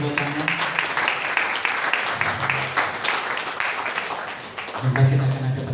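Steady applause from a wedding congregation during a church ceremony, moderately loud and continuous, with some voices underneath.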